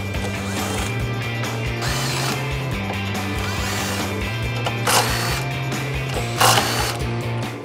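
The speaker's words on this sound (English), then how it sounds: "Using a 13mm socket and an impact gun, we're going to remove these 4 nuts on our strut towers" An impact gun with a 13mm socket runs on the strut tower nuts of a 2005-2014 Mustang, giving a loud, steady mechanical whirr with a repeating hammering rattle and a couple of sharper metallic clanks.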